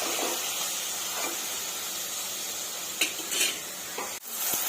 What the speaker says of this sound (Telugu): కట్ చేసి పెట్టుకున్న టమోటాలు వేసుకుందామండి